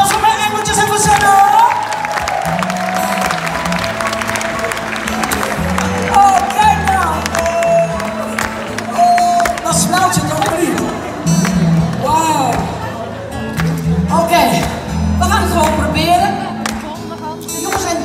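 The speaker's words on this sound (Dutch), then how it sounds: "Applaus voor mijn engeltjes en voor Senna." An audience at a concert cheers, whoops and applauds loudly, with crowd noise swelling throughout. A voice speaks over the cheering, and some singing and music come through the clapping.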